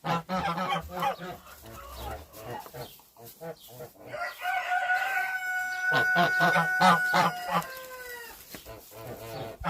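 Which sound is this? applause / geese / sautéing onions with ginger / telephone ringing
geese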